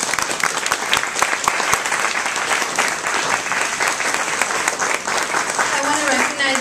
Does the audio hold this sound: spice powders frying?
no